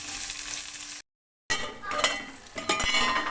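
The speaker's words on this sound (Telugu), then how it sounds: "కట్ చేసి పెట్టుకున్న ఉల్లిగడ్డ పచ్చిమిర్చి ముక్కలు అయితే వేసుకొని వేయించుకుందాం" Chopped onions and green chillies hit hot oil in a pan with a sudden loud sizzle after a brief silence, then keep crackling and hissing steadily while a spoon clinks and stirs.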